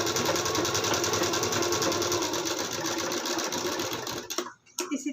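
A sewing machine stitches a blouse fitting seam in one loud, continuous close whir that cuts off near the end, followed by a brief quieter pause and a short restart.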